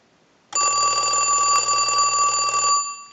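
A Mickey Mouse novelty telephone rings with a loud, steady electronic bell trill lasting a little over two seconds, starting abruptly after a short silence and stopping just as sharply.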